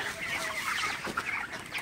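A flock of broiler chickens in sultry, humid heat keeps up a steady, dense clucking murmur, moderately near and with no talk over it.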